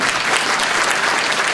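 An audience at a Korean citizens' concert event claps in a dense, continuous burst of applause, loud and close, with no other sound.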